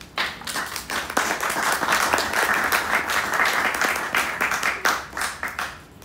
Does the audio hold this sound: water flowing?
no